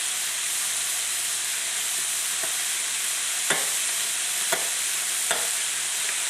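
Tomato paste and garlic sizzle in a pan for spaghetti and meatballs, a dense, even frying hiss with a few scattered taps of a spoon stirring through it.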